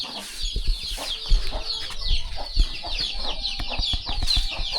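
Chickens cluck and call close by on a rural southern Lao farm in the morning, a busy overlapping chorus of fowl with scattered thumps and rustles underneath.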